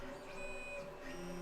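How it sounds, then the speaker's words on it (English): A printer finishes its job with a few soft motor whirs and a brief rising and falling electronic whine, faint and alone. "that was the final sound of the printer right there"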